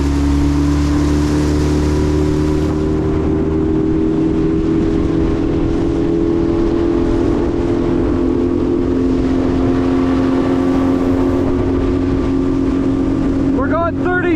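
A mini bass boat with an upgraded outboard motor runs at speed, its engine droning loud and steady throughout with wind rushing past the microphone.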